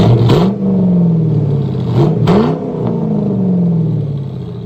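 A Lincoln Mark 8 4.6L V8 engine revs up loudly several times, the pitch climbing and falling with each burst over a steady idle rumble.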